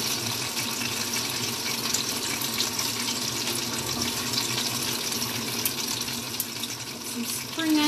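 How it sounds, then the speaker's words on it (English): Broth is poured onto a plate in a kitchen, giving a steady trickling splash that runs at an even level throughout, close by and without talk. "I've got the broth here now, which I'm just going to pour a little bit"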